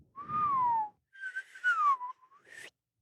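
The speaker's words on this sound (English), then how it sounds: "I just felt like whistling" A person whistles a short, loose tune in a podcast setting, a few clear gliding phrases with pauses between them, close and alone.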